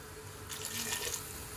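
Boiled hot water pours into rice being cooked for pilau, a soft, steady splashing trickle that swells briefly midway, faint and close.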